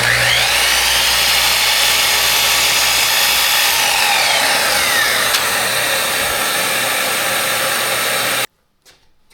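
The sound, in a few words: crosscut saw cutting laminated plywood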